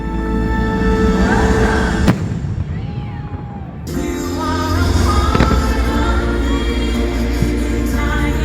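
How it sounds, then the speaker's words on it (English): Fireworks boom and crackle loudly over a dense, continuous roar at Epcot in Walt Disney World, with sharp bursts standing out from the steady blasts of the nighttime show. "we found ourselves a really good spot to watch the fireworks"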